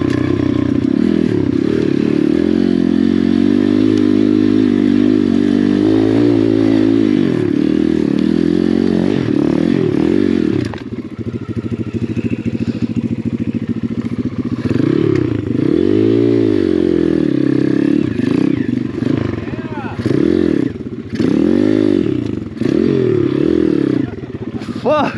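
An Apollo RFZ pit bike, a budget dirt bike, climbs a hill with its engine revving loud and close, rising and falling repeatedly, with scraping and clattering as it strains up the slope.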